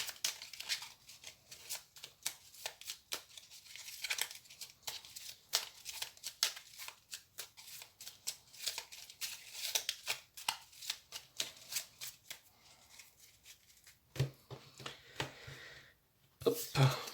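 Oracle cards from the Murmure de nos anges deck shuffled for a reading, giving a long run of quick, crisp riffling slaps and flutters at close range, with a pause and a few final card snaps near the end.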